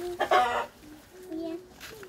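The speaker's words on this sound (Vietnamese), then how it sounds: "Đó, con gà." A chicken clucks near a Tien Giang countryside pond, giving short, fairly close calls in a couple of bursts, with a person's voice briefly heard.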